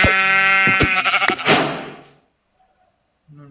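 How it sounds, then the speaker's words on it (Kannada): A sheep in the Minecraft video game bleats loudly with a wavering, buzzy cry, close and clear, followed by silence and a brief faint sound at the end. "ಇನ್ನೊಂದು ಕುರಿ ಶಬ್ದ ಎಲ್ಲೋ ಬಂತಲ್ಲ."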